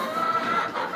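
Chickens at a village poultry farm raising free-range hens for eggs cluck and murmur together at close range, a dense, steady chatter of fowl with no one talking.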